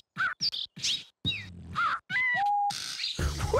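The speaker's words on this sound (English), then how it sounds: "Betty, are those... Bluebills beatboxing birds?" Cartoon birds beatboxing outdoors, a quick run of chirps, whistles and caw-like calls in clipped bursts with gaps between them, rising into a rougher noisy burst at the end, fairly soft and with no talk.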